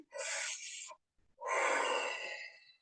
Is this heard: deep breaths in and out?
yes